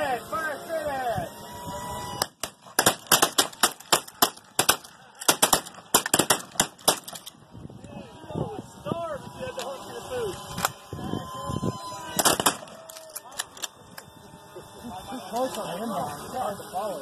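Repeated shotgun blasts at an outdoor drone shooting event, sharp loud bangs coming in irregular clusters over steady background noise, with excited shouting voices in between.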